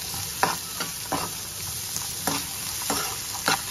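Egg fried rice being stirred in a frying pan with a cloth, giving a series of distinct scraping strokes over a steady soft sizzle, fairly close and with no talking.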